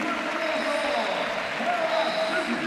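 A crowd claps steadily in a large handball arena at a cup final, the applause dense and continuous, with a voice talking faintly beneath it.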